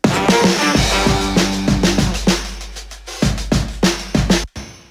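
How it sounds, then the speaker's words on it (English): A heavy guitar riff thickened by brassy horn samples, loud and rhythmic over drums, ending in a sharp stop. "I added some horn samples to that to kind of give it a bit more realism."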